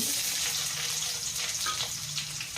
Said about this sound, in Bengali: পেঁয়াজটাকেও হালকা করে ভেজে নেব